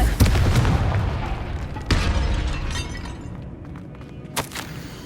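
A Confringo fire spell explodes in the Hogwarts Legacy video game with a heavy boom at the start, then a rumbling, crackling decay, a second thud, and a sharper burst near the end.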